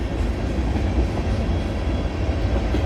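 A freight train rolls past at Bronte, a steady, loud low rumble of rail cars with faint clatter, continuous and close throughout.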